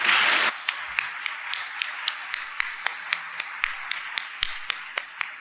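Panel audience at a business benchmarking session breaks into a short loud burst of clapping, which settles into steady, evenly spaced single claps that keep a regular beat to the end.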